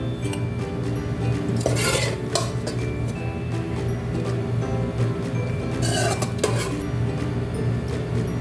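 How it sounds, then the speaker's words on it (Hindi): A spoon scrapes and clinks against a pot while spinach and potato curry is dished out, a few distinct metallic knocks over a steady low kitchen hum, close and fairly loud. "तो एवरीवन ये देखिए अब हम पालक को डिश आउट करते हैं।"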